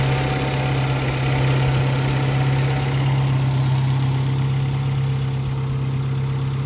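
A Honda Civic EK engine idling with the A/C compressor clutch engaged, power steering running and the fan on, a steady, even drone with a strong low hum, close and loud throughout.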